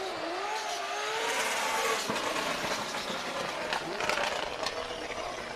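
Daigo Saito's drift car makes its second run at D1GP Okuibuki 2023, its engine revving and wailing in rising and falling sweeps at a distance, with crowd and ambient noise and commentary voices faintly underneath.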